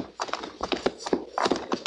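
Horses shift and step about on a rise in a radio drama sound effect, clip-clopping hooves in quick, irregular thuds, with a faint snort, close and clear with no voices.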